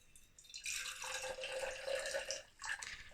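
Ilford Ilfosol 3 developer solution pours in a steady liquid stream, about 100 ml into a container, with a trickling, dripping splash that swells and briefly dips partway through. No one speaks over it.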